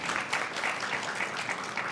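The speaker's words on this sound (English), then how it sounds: "Yes, give that a round of applause." Steady applause from a conference audience, a dense even patter of many clapping hands filling the short stretch without pause.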